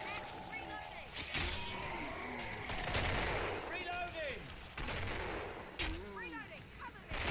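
Gunfire from the Killing Floor 2 video game during a competitive match: repeated loud gunshot bursts and heavy booming shots layered with game effects, with players talking over the action throughout.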